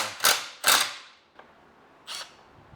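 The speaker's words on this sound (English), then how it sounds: "that little 3/8 gun, that thing packs a real punch" A small 3/8-inch impact gun works on suspension bolts of a BMW E39 540i, firing two loud, close bursts in quick succession, then a faint brief one and a last shorter burst, with no talking.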